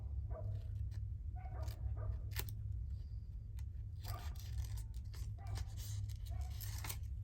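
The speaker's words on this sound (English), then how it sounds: "But that's outside our other window, the howling dogs." Dogs barking and howling outside a window during a home crafting session, heard as scattered, fairly distant barks over a steady low hum.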